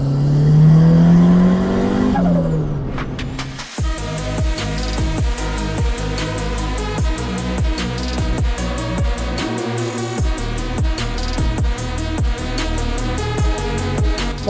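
A turbocharged Honda Civic EX 1.6 engine revs up loudly, then idles with a rhythmic chattering turbo flutter that repeats in quick bursts, close and without talk.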